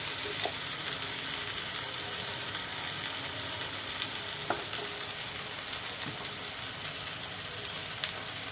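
Ginger and garlic fry in hot oil for a hilsa fish curry, a steady bright sizzle with occasional pops and scrapes of a stirring spoon against the pan, close by and with no talking.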